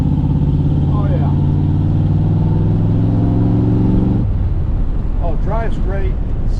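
A 1974 Chevrolet Corvette C3 with side pipes drives with a loud, steady, deep exhaust drone that cuts off partway through, leaving road noise and brief voices.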